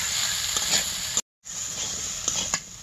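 Sliced round potatoes and eggplant frying in a pan, a steady broadband sizzle with a few soft stirring knocks, interrupted by a brief silent gap partway through.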